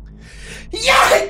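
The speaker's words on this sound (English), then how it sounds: "You start sneezing in this room" A single loud, close sneeze bursts out after a brief sharp inhale, alone and lasting under a second.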